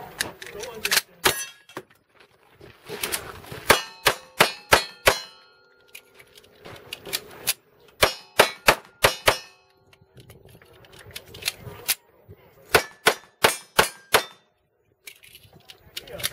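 Shotgun blasts at a Wild Bunch action-shooting stage, each sharp report followed by a ringing steel-target clang, fired in quick bursts of four to six with short pauses between, while a voice calls out faintly in the gaps.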